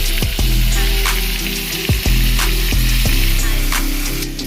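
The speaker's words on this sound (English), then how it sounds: "we are going to cook them for 2 minutes per side" Shrimp fry in a pan for a shrimp and grits dish, giving a loud, steady sizzle. Several sharp pops and low thumps cut through it, and no one speaks.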